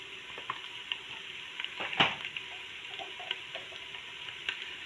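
Potatoes and fresh beans frying in a pan with red chili powder, salt, turmeric and coriander, a quiet steady sizzle broken by light clicks of stirring and one sharp scrape.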